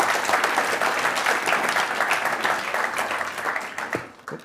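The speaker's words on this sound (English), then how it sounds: "let's do another round of applause for our speakers" Audience applause at a conference session for the speakers at NixCon 2024 in Berlin, a steady dense clapping from a large crowd that holds for about four seconds and then tapers off.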